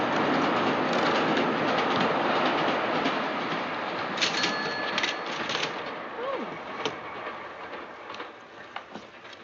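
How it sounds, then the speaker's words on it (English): An express train roars through a railway station, a dense rumbling, rushing rail noise that starts loud and gradually fades with rattling clatter, while voices murmur nearby. "I just wanted to see the express go through."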